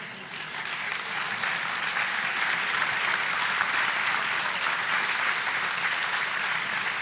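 Audience applause at a live debate event, a dense, steady wash of clapping from a large crowd that swells in the first second and holds evenly loud to the end.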